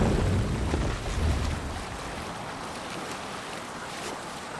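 A Viking longship sails across open sea in Assassin's Creed Valhalla, with rushing wind and water washing against the hull, loud and churning at first, then settling into a steady softer wash.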